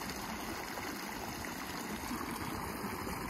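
Water from a waterfall pours into a small, muddy yellow river, making a faint, steady rushing wash that holds constant throughout.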